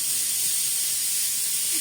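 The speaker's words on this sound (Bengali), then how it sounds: "প্রেসারে সিটি দিবে" A pressure cooker whistle releases a steady, loud hiss of steam close by in a home kitchen, continuous and unbroken with no voices.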